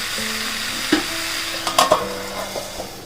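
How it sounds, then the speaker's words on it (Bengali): Kasundi chicken braising in a covered pan, giving a soft sizzle with a few quick clinks and scrapes of stirring near the middle, over a low steady hum. "আমি এটাতে একটু ঢাকা দিয়ে দেবো, দিয়ে কষিয়ে নেব"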